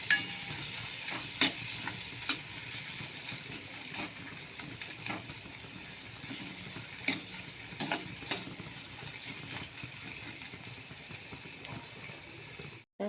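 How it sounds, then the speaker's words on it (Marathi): A spiced tempering for garlic spinach sizzles quietly in oil with chili powder and turmeric, a low steady crackle broken by occasional clicks and stirring taps, fairly faint and without talk. "फोडणी होत आलेली आहे."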